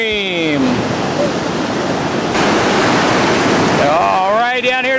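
Whitewater rapids on the Lower New River during a rafting run roar loudly and steadily, a broad rushing wash of churning waves, with someone talking over the water at the start and again near the end.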